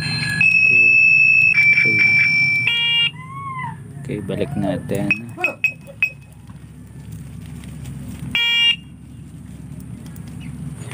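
A TWOOC electric bike horn blares in a loud, sustained electronic tone for a few seconds, followed later by a shorter burst, with a person talking in between.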